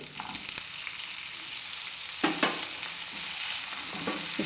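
Fresh green peas sizzle in a pan for a palak matar (spinach and pea) curry, a steady close frying hiss with a few scraping stirs of a spoon partway through.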